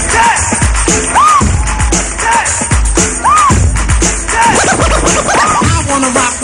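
A DJ performing live scratches a record, producing loud, rapid rhythmic scratches over a thumping beat, with faint crowd noise underneath.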